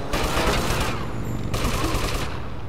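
Sustained rapid gunfire in an older GTA video game, loud and continuous bursts with a brief gap in the middle before the firing resumes, then tapering off.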